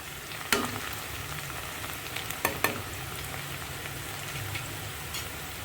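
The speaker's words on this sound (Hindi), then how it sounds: "अभी मैं इनमें डाल रही हूँ 1 सूखी लाल मिर्च। इसको भी थोड़ा सा प्याज के साथ भूनेंगे" A dried red chili frying with onions in hot oil makes a soft, continuous crackling sizzle with a few sharp pops and stirring taps, moderately faint and without speech.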